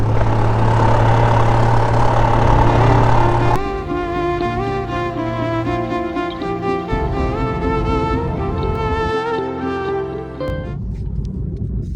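A Kawasaki Z900 motorcycle engine idling up close, a loud steady rumble with a rough throaty tone that shifts slightly partway through and stays unbroken throughout.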